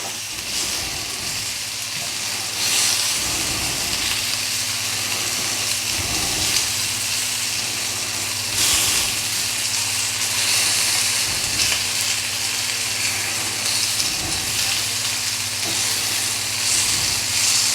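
Fat sizzles steadily in an all-in-one pan cooking an English breakfast, with a loud continuous crackling hiss and occasional louder spits and scrapes as the food is pressed and moved.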